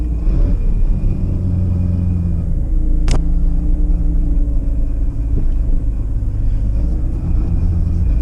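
A Mazda RX-7 cruising on the road to warm its fresh sticky tires, heard from inside as a loud, steady low engine and road rumble with one brief sharp click partway through.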